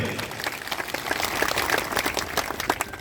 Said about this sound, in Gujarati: આપણે જોરદાર તાળીઓથી વધારીએ